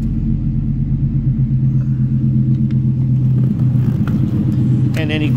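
A deep, steady exhaust rumble from an idling 2009 Dodge Challenger SRT8 V8, low and continuous, with a brief higher-pitched rev near the end.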